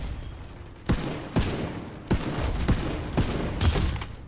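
Gunfire crackles in Planetside Arena: a handful of sharp, separate shots spaced irregularly across a few seconds over a low background hum, moderately loud and with no talk.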